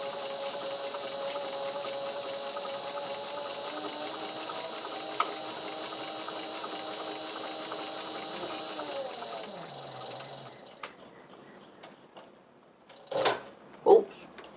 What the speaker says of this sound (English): Oh, Denny's sewing.